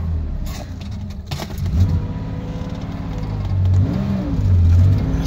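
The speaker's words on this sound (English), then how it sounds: "it just wants to idle high like this, and you can kick it down, it will idle lower" A car engine idles high with a loud, steady rumble close by, rising and falling slightly as the throttle is nudged, and a few metallic jingles sound early on.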